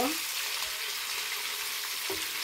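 Steady bright sizzle of tilapia frying in a little oil, constant and close, with faint utensil clinks.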